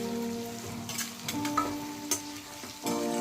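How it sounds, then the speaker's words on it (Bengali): Dried fish, green chillies and garlic frying in hot oil, a steady close sizzle and crackle with a few brief scrapes of stirring, no one speaking. "কাঁচা লঙ্কা, রসুন, শুটকি মাছ তেলের সাথে একটু ভাজতে থাকলাম।"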